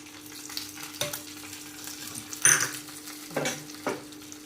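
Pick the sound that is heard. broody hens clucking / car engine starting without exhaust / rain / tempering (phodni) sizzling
tempering (phodni) sizzling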